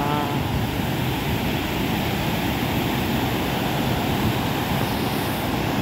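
Water rushing hard and steadily at the Mahananda Barrage on the river, a dense continuous roar that stays loud and unbroken throughout, with no voices over it.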